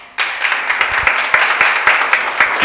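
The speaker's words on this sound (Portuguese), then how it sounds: "Você pode aplaudir a Ele por isso?" Congregation in a church breaking into applause, a sudden swell of many hands clapping in a sustained, fairly loud wash with a few sharper claps standing out.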